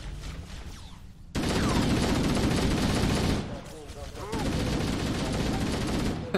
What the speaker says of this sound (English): The assault rifle is so weak.